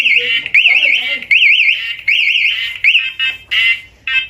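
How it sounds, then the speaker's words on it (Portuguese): An electronic alarm fitted to a Yamaha XBR motorcycle blares close by with a loud warbling siren tone, cycling through repeated wavering bursts and short pauses. "o rapaz colocou alarme nessa moto"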